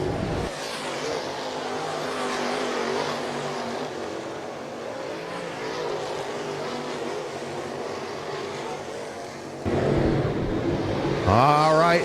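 Late model race cars in a Florida Late Models Challenge Series race at All Tech Raceway roar continuously around the track, the engine drone swelling near the end as cars pass close.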